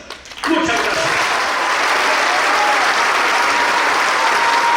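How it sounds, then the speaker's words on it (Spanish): Strong, loud audience applause after a speech at a National Action Party event, starting abruptly after a brief quiet moment and holding as a thick, sustained roar of clapping to the end. "Fortísimo el aplauso, fortísimo el aplauso."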